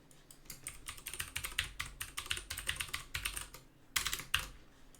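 Rapid typing on a computer keyboard, close and crisp, with bursts of keystrokes, short pauses, and a final flurry of clacks.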